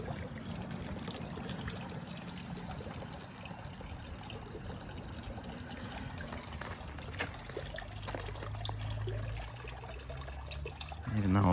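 Pond water drips and trickles through bird netting in a steady, continuous patter that stays fairly faint throughout.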